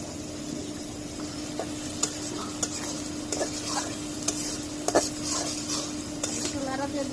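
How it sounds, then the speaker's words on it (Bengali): Onions fry in a pot of beef bhuna with ginger, garlic and spices, under a steady loud sizzle while a spoon scrapes and clinks against the pot in repeated sharp knocks. "একটু লাড়া দিয়ে দিলাম। এখনো পেঁয়াজটা হয় নাই"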